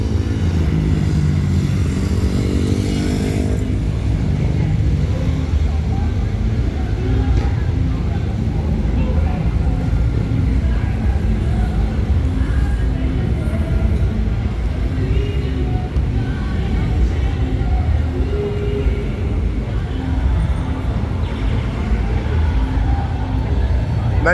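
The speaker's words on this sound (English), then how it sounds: "Bikes just keep going by" Bikes streaming past on Adam Clayton Powell Blvd in Manhattan, a continuous loud roar of engines and traffic with no break, as people talk nearby.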